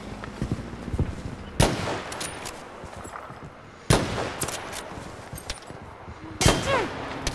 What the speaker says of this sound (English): Nice headshot there with your fucking semi-auto rifle.